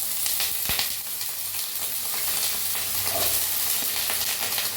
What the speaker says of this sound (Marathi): पहिला आपण काय करूया बटाटो भाजून घेऊया